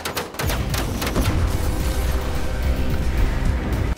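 Heavy gunfire and an explosion hit a boat at sea in an action film, a dense, loud, continuous barrage of shots and booms that runs for about four seconds.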